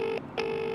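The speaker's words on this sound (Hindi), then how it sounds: "भाई रिंग तो जा रही है" A phone call rings through on the line, giving two short electronic ringback bursts separated by a brief gap, steady and clear.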